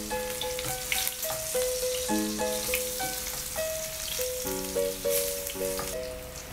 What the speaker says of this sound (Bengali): এখন আমরা একই তেলে বেগুনগুলো ভেজে নেব।